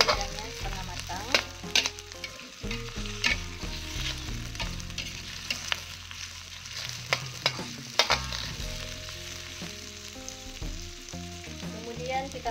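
Shrimp frying in a pan until half cooked, a constant sizzle broken by repeated spatula scrapes and clanks against the pan, close and moderately loud.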